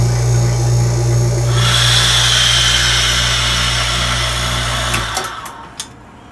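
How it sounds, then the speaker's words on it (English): A vacuum pulls ash out of the interior of a flask, a loud, steady whooshing drone that runs for about five seconds before cutting off, followed by a few light taps. "this is pulling, vacuuming all of that ash outside, or from the interior of that flask"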